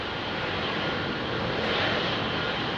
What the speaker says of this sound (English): That's a big monster engine right there. That looks like a GE90 package